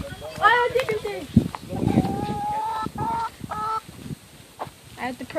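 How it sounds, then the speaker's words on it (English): Chickens squawk and cluck in a run of sharp, honking calls during a chase, close and loud, with people talking over and between them. "It's a wild chicken chase."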